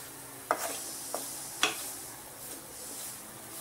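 Atta and besan flour being stirred and roasted on low flame in a kadai for ladoos, with a soft dry hiss underneath and a few sharp scraping clicks of the spatula against the pan, close and fairly quiet.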